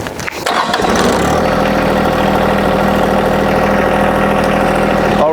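A John Deere 1025R compact tractor with a loader and grapple starts up, its engine catching after a brief crank and then settling into a loud, steady idle close by.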